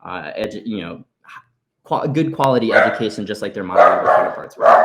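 Dogs barking in the background, a few short yips and barks overlapping with a person speaking in the foreground.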